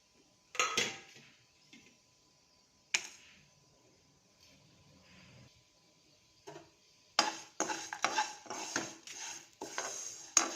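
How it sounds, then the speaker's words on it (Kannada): Masala being roasted with curry leaves in a pan for hotel-style idli: bursts of metal scraping and clinking from a spatula stirring against the pan, with quiet gaps between stirs, closer and busier toward the end. "ಏನೇನು ಹಾಕಿನೆಲ್ಲ ಎಲ್ಲ ಹಾಕ್ಕೊಂಡು ಮಸಾಲೆನ ಹುರ್ಕೊತೀನಿ"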